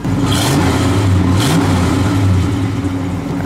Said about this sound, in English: we'll rev it up a little bit